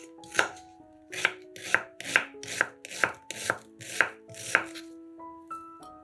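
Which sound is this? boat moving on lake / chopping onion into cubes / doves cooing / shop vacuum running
chopping onion into cubes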